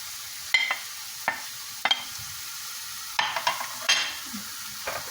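Meat sizzles in hot oil in a pan with a steady soft frying hiss, broken by several sharp scrapes and clacks of stirring at irregular intervals, close up.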